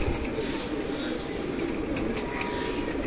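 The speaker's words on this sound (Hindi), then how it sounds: "तो ये कबूतर देखिए" Pigeons coo softly in a pigeon loft, with low murmuring calls that run under someone speaking Hindi.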